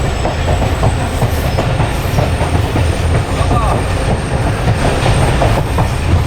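A Tezgam passenger train runs on the tracks with a dense, loud rumble and a steady clickety-clack of wheels, heard close from on board.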